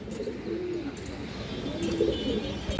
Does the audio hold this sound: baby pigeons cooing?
yes